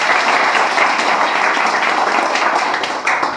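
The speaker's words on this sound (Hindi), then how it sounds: "एक बार इनके जोरदार ताली बजा दीजिए।" Audience members in a first-day counselling class applaud loudly, a dense, steady burst of clapping lasting several seconds with no talk over it.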